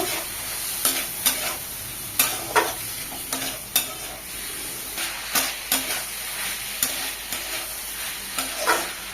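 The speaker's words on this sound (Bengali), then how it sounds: "সামান্য জল দেব, জল দিয়ে আবারও কষিয়ে নেব।" Fish and potato curry sautéing in a pan with a little water added, a low simmering sizzle broken by repeated spoon scrapes and stirs at a steady irregular rhythm, close and moderately loud, no voices.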